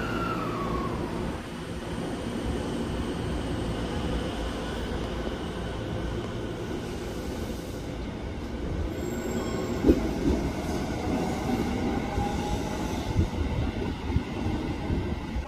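A train pulls into Goi station in Chiba, its steady rolling rumble filling the platform, with thin wheel squeals and brief metallic squeaks as it slows.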